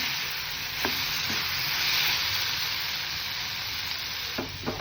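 A filling of capsicum, potato, paneer, chilli flakes, oregano, salt and ketchup being mixed in a hot pan, giving a steady close sizzle with a few soft stirring scrapes, no talk.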